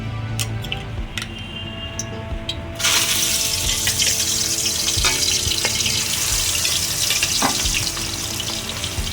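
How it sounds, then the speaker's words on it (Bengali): Shrimp dropped into hot mustard oil, a quiet crackle that jumps into a loud, continuous sizzle partway through and then keeps bubbling steadily up close, with occasional clinks. "এখন আমি চিংড়ি মাছগুলোকে এই গরম তেলে ছেড়ে দেবো।"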